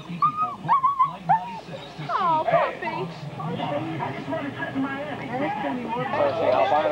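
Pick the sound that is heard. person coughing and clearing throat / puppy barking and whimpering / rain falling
puppy barking and whimpering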